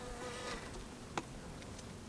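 Honeybees on a hive frame from an insulated Apimaye hive, a faint, steady buzzing hum with a brief sharp click partway through and no talking.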